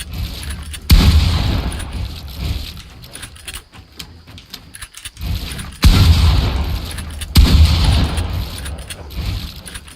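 Shotgun blasts in Fortnite: three loud, sharp booms with gaps of several seconds between them, separated by quieter game noise and mechanical clatter.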